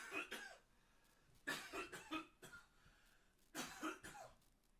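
A person coughs after smoking, with three harsh bursts of repeated, raspy coughs separated by short pauses, close to the microphone and with no talk.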